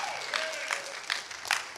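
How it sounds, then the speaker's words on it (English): A church congregation breaks into brief applause, a soft, scattered patter of clapping from a crowd indoors, with a few louder claps standing out. "That was worthy of like more of an applause."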